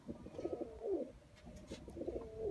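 A Sialkoti pigeon coos softly while being held in the hand, two low, rolling calls close by and quiet, with no talking.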